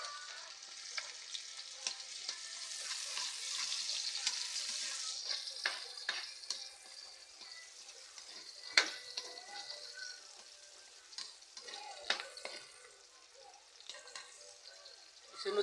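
Garlic and onion fry in a pan with a steady bright sizzle, punctuated by scrapes and clicks of stirring, moderately close and fairly quiet.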